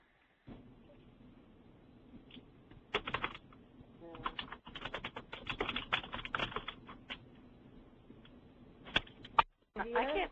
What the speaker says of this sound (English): I'm hearing computer typing